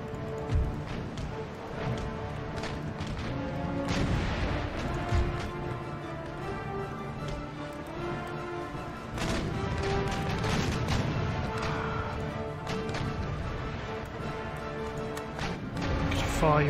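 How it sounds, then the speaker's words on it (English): Warship broadside cannons firing in an Empire: Total War naval battle, a ragged run of heavy booms and crashes overlapping one another amid battle noise, with voices in the mix. "Broadside firing."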